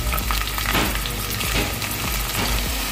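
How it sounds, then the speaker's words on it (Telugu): Prawns fry in hot oil in a pan, making a loud, constant crackling sizzle with light stirring throughout. "రొయ్యలు మొత్తం వేసేసుకున్నామండి నూనెలోకి"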